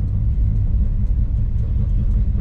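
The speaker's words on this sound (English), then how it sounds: "Today we're driving a nice blue with white stripes 1970 Chevrolet Chevelle, also with cowl induction hood." Deep, steady low rumble of a 1970 Chevrolet Chevelle with cowl induction hood and automatic transmission while driving, a constant close engine drone with no voices.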